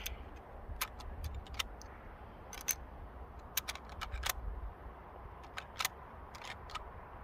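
Metallic clicks and sharp clacks come from rounds being pushed into the open bolt of a Mosin Nagant rifle, several irregular close snaps over a low background rumble.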